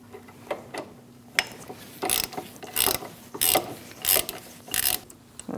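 Rapid ratchet clicks come in short repeated bursts while rear caliper bolts are tightened on a 2000-2006 Mini Cooper, close and fairly crisp against a faint steady hum.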